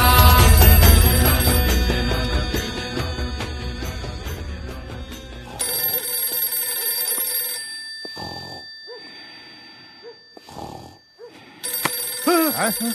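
A telephone rings repeatedly in a Hindi movie scene, bright electronic ringing tones that start loud over a music bed, then continue in short bursts separated by gaps, with brief sounds between rings.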